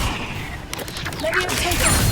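Incendio fire spell cast in Hogwarts Legacy on Xbox Series X, a burst of whooshing, crackling combat effects layered over continuous game battle noise, with a voice shouting spell names.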